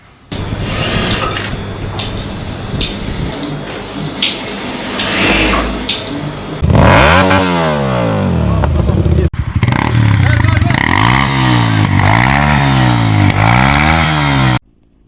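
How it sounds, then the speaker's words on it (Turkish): A loud car engine with a modified exhaust revs repeatedly with a harsh, rasping note, rising and falling in pitch, close by, with street noise and voices earlier on. "gürültüye neden olan abart egzoz takılı yüzün üzerinde aracı trafikten men etti"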